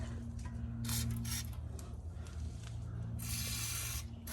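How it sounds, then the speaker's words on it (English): Bursts of hissing WD-40 aerosol spray from a can, several short blasts and one longer one, close up over a steady low hum, sprayed on a Honda Civic Si during header installation. "I sprayed it with some WD-40."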